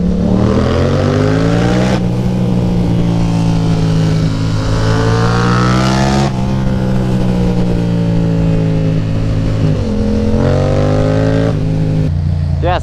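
A Yamaha FZ07 motorcycle revs and accelerates through several gear changes, its loud exhaust note echoing off surrounding walls, close and continuous with rising and falling engine pitch.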